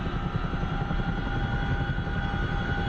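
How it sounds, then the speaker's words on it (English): Chinook helicopter in the DCS flight simulator with its rotor blades spinning up: a steady loud drone of engine whine and rapid rotor thumping, continuous and close, with no voices. "Now you hear those blades."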